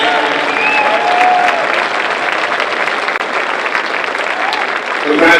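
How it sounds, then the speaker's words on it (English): Crowd applause at a Canadian youth football gold medal game between Quebec and Ontario, steady and dense throughout, with a faint voice over a PA woven in and the clapping swelling slightly at the end. "Can we get a round of applause for every province that's represented here today?"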